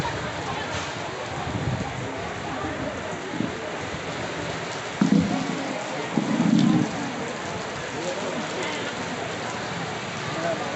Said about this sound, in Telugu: ఫుల్ వర్షం స్టార్ట్ అయిపోయింది